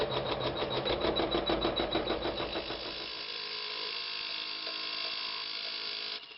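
A sewing machine runs close up, stitching pieced quilt fabric in a fast, steady rhythmic chatter for about three seconds, then settles into a quieter continuous whir that carries on alone to the end.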